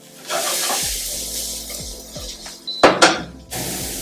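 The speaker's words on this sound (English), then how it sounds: "Add in the shallots and fry it till it's fragrant or light brownish." Shallots frying in cooking oil, a steady broadband sizzle with a few scraping stirs and two louder clattering pan knocks near the end, no talking.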